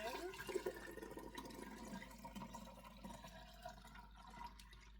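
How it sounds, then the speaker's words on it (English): Homemade chicken broth splashes and trickles steadily into a pot, fairly quiet, with a soft gurgle that fades toward the end. "I'm just gonna put it in here and pour this back in"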